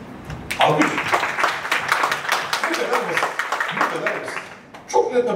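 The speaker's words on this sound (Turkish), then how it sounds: "Süper, alkış. Alkış." Clapping from a classroom of students bursts out for several seconds with dense, overlapping hand claps, eases briefly, then swells again at the end, with voices mixed underneath.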